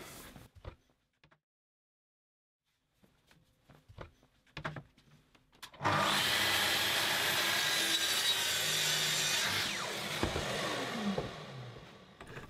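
Wood sawn to recut an angle on a wardrobe workpiece. After a quiet stretch with a few scattered light knocks, a loud, continuous sawing sound starts about halfway through and carries on to the end.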